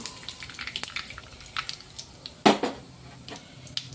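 A bay leaf, cumin and mustard seeds sizzle in hot oil for an egg green chilli masala gravy, a crackling hiss with scattered pops and one louder spatter burst.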